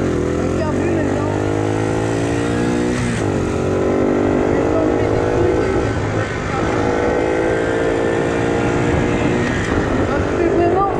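A Dax 50cc injection motorbike with an NHRC exhaust drones loudly and steadily nearby, its pitch climbing and falling as it is revved repeatedly, with someone talking over it.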